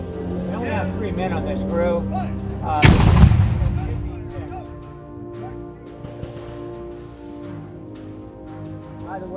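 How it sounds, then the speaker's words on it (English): A colonial-era cannon fires a powder-only blank charge with no ball, a single loud booming blast that rolls and decays over several seconds, with people talking before and after the shot at an outdoor historical demonstration. "By the way, the gun would also make a lot more noise if we had a ball in it."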